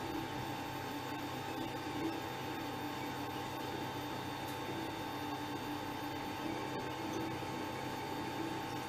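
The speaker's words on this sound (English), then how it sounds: "You have to forgive the noise of that printer in the background." A printer runs steadily in a workshop room, a continuous mechanical whir with a constant electrical hum, unbroken and even throughout at moderate level with no talking.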